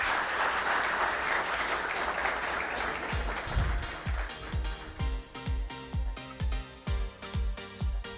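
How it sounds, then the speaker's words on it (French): Audience applause at a formal ceremony swells as a broad wash of clapping, then thins into a slower, rhythmic group clap with distinct beats toward the end. "Sous vos chaleureux applaudissements, s'il vous plaît."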